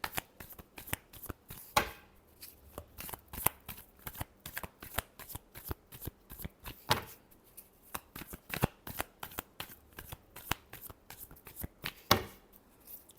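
A deck of tarot cards shuffled by hand at close range, giving a steady run of crisp riffling flutters and snaps, with a few louder bursts where the deck is squared, and no talk.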